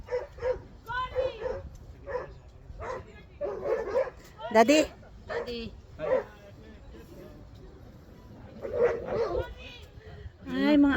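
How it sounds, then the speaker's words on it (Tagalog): Dogs barking, yipping and whimpering in a scuffle on a road at the entrance to Baguio, with sharp repeated bursts close by and people talking over the commotion. "May nag-aaway na aso."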